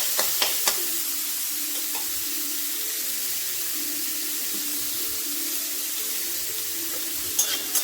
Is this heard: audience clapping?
no